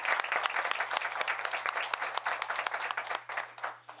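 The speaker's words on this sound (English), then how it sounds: "Please give them a round of applause." Applause at a town board meeting for Good Neighbor Award recipients, a room of people clapping in a brisk, fairly quiet patter that thins and fades toward the end.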